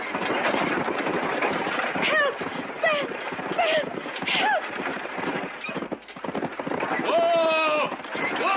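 In a western film, horses gallop with rapid hoof clatter beneath shouting voices and occasional whinnies.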